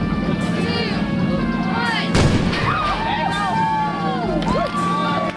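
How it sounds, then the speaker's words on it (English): Human cannonball cannon firing at a live show, a sharp blast followed by crowd cheers and excited voices over a constant murmur, with people talking around it. "I get shot out of a cannon"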